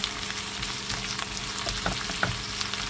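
Chicken wings sautéing in a pan for tinola, giving a dense, steady sizzle with scattered crackles and pops throughout, close and fairly loud.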